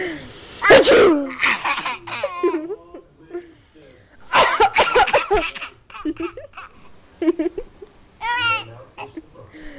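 Repeated loud, theatrical sneezes from an adult alternate with a young child's laughter and babble, with brief pauses between bursts, recorded up close indoors.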